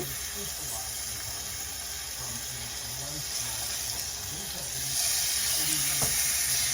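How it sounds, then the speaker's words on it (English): Steady sizzling and crackling of chicken frying in a hot pan, continuous and close, growing a bit louder midway, with faint kitchen clatter. "You can hear them start to sizzle."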